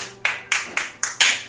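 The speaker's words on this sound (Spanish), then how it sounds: "Bueno, aplaudimos." A church congregation applauds in five short bursts of clapping, each starting sharply and fading, fairly close and loud with no talk over them.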